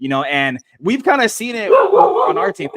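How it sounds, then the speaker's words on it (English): A dog barks and yips in short bursts near the microphone, partly masked by someone talking over it in an indoor conversation. "That's my dog."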